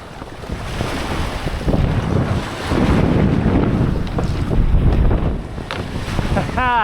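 Ocean waves and surf churn at an abandoned seaside tunnel, a steady rushing wash with heavy wind buffeting the microphone throughout and no clear talk.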